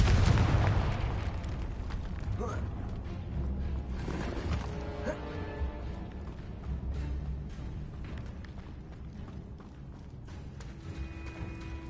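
A Confringo spell blast in a video game opens with a loud, booming explosion, then decays into a long rumbling tail with scattered crackles under game ambience.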